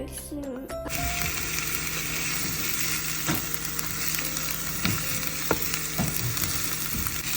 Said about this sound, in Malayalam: അപ്പൊ നമ്മള് കുറച്ച് ഉള്ളിയും മുളകും ഇട്ടു. പിന്നെ കുറച്ച് വെളിച്ചെണ്ണ ഒഴിച്ച് നമ്മൾ കുറച്ച് നേരം ഇളക്കാം.